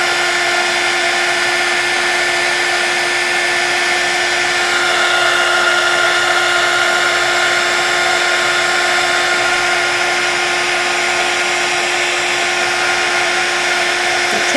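Heat tool blowing hot air under a card to melt embossing powder, a steady whining hum with a high constant tone, continuous and close for the whole stretch.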